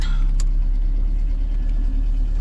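A Honda Civic CX hatchback engine rumbles steadily at low pitch during a drive, constant and close, with no voices over it.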